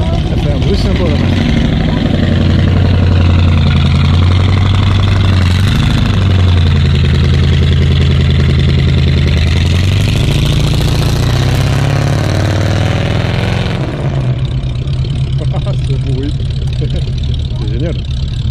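Ford Mustang engines idle and rev at an American car meet, a steady low rumble close by with revs rising and falling, while people talk in French over it.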